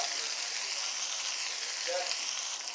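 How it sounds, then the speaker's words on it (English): Fish bones stir frying in a hot wok, a steady bright sizzle and crackle of oil with a few faint scrapes, close and continuous without pause. "Now in the meantime, all the ingredients is frying up."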